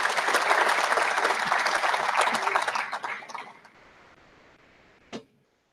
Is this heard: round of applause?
yes